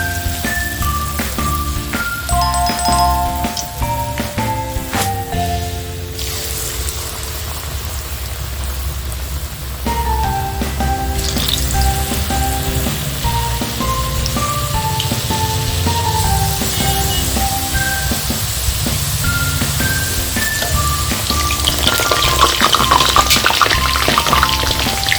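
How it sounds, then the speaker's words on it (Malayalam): Murukku (naruk) frying in hot oil, a steady bubbling, rain-like sizzle throughout, with tinkling background music over it. "എണ്ണയിലേക്ക് ഇട്ട് കൊടുക്കുന്നു."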